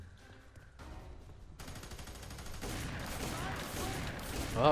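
Enemy gunfire in the shooter game Fear 3 rattles in sustained bursts that grow denser and louder toward the end, and a man gives a brief exclamation over it.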